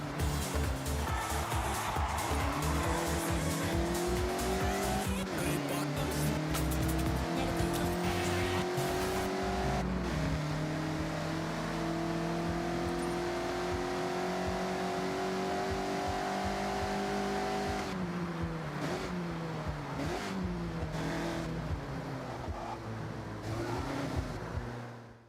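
A Mazda MX-5 races and drifts through corners in the video game Forza Horizon 6, its engine revving loudly and rising in pitch through the gears, with tire squeal and a gear change midway.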